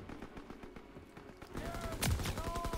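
Gunfire in the World War II shooter Call of Duty WW2 comes as rapid, rhythmic automatic bursts. The shots grow louder and denser toward the end, with another loud report near the close.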